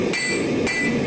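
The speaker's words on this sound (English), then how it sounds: "Light hits to set the forge welds, and then more aggressive forging." Two sharp hammer blows ring out on hot scrap-steel billet, light strikes setting the forge welds, each with a bright metallic ring over steady forge roar.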